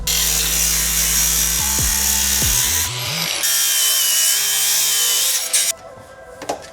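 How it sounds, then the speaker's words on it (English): An angle grinder cuts through a bent radiator support bar on a Holden VF during an LFX to L77 engine swap, a loud sustained high whine with shifting pitch as the disc bites, then spinning down near the end. "I'm going to have to cut it out with the grinder to be able to access the bolts"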